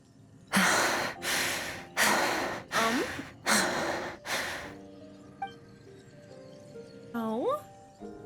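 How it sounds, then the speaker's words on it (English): Skirk, a Genshin Impact character, pants heavily in a series of about six loud, rhythmic breaths, each a strong noisy exhale, then eases off into quieter breathing and a voiced sigh near the end. "Skirk? She's panting."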